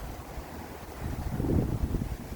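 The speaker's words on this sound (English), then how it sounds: "Here comes another gust." Outdoor wind gust in Kamloops, British Columbia, at Thanksgiving: a steady low rumble of wind buffeting the microphone swells into a louder, rougher roar midway and stays strong to the end, with no voices.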